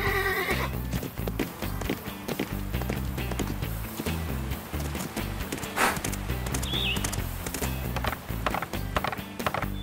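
Horse hooves clip-clopping in a steady, rhythmic gait with occasional neighs in a horse riding video game, continuous and fairly loud with no talk.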